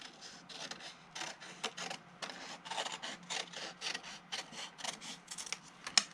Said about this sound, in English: So what I do is I cut around it.